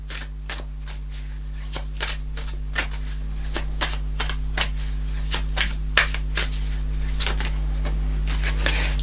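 Tarot cards are shuffled by hand in quick, crisp riffles and flicks that repeat in an uneven rhythm. Each burst is close and distinct, with a steady low hum running underneath.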